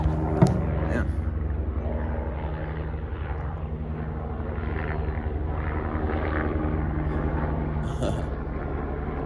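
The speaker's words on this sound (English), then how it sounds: "Dang, got that helicopter taking off." A helicopter taking off nearby, a steady droning engine and rotor rumble that persists throughout at moderate loudness, with brief talk over it.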